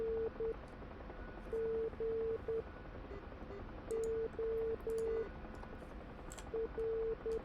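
Morse code beacon identifier tone in the DCS UH-1 Huey flight simulator, short clean beeps in repeating groups of dots and dashes, faint and steady over a low background hiss.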